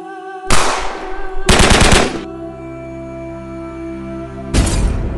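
Rapid machine-gun fire in a Lego animated battle, heard as three loud, close bursts of dense rattling shots, with a steady electronic hum continuing between them.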